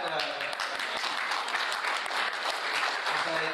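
Dense, steady applause from a large audience at a political campaign kick-off event fills the whole stretch, loud and continuous with no break.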